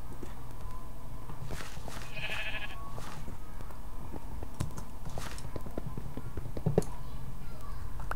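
Sheep bleat a few times in a Minecraft-style survival game, short nasal cries over steady background sound and light footsteps, one call near the start standing out.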